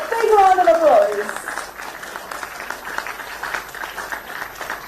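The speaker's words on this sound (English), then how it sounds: "Can we give it up, ladies and gentlemen? A big round of applause." Applause at a medical university orientation ceremony, a broad wash of clapping that swells strongly at the start under a brief voice, then settles into softer, sustained clapping from the audience.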